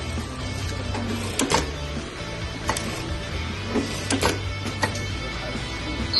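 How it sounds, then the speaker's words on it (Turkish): A Jack A5E industrial sewing machine running half-step stitches, a steady mechanical hum with brief clacking bursts every second or so, close and moderately loud with no talking. "Tuşa bastığım andan itibaren yarım adım dikişimizi yapıyoruz."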